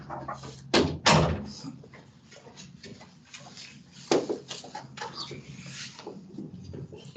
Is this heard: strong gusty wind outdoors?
no